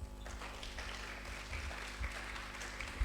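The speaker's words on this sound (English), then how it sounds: "and clap for yourselves." At a conference in Kisumu, an audience claps for itself in a soft, steady patter of many hands under a low hum, with no voices.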